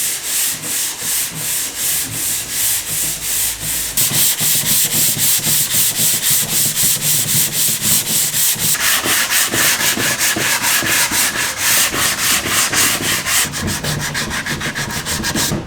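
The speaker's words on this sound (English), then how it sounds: "it was time to give the tabletop a sand." Sandpaper scrubs steadily across a wooden mid-century 'Stingray' coffee tabletop in quick back-and-forth strokes, a continuous close rasping that grows louder after a few seconds and keeps a brisk rhythm throughout, with no voices.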